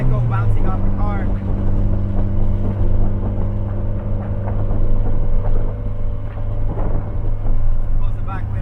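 A Mitsubishi Evo X's exhaust holds a loud, steady engine drone with a deep, even hum, heard close up under voices talking throughout.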